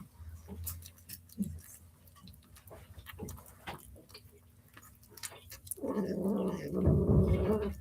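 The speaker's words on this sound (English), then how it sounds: "Who's growling?" A cat growls and caterwauls in low, rumbling bursts, close and fairly loud, with a louder, harsher stretch toward the end amid light tapping noises.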